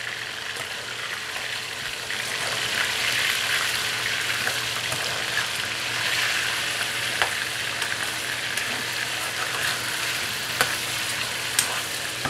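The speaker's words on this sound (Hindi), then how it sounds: "ये चिकन हो रहा है फ्राई" Chicken frying in a karahi produces a steady, close, hissing sizzle of hot oil that continues throughout with occasional crackles and light stirring, with no speech.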